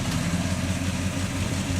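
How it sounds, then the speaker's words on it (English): A 1968 Oldsmobile Cutlass 442 with its Rocket 400 V8, four-barrel carburetor and dual exhaust idles close by, a deep, steady rumble with a low throb and no revving. "This is a 1968 Oldsmobile Cutlass 442. Of course, it's running Rocket 400 motor."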